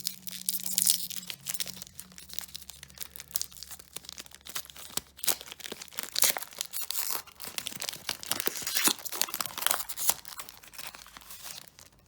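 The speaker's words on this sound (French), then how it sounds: "On ouvre le paquet" A trading card pack wrapper is torn open up close. Dense crinkling and crackling of foil plastic carry on for several seconds with no voices.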